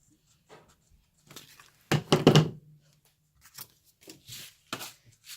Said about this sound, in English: So I just trim around with my scissors,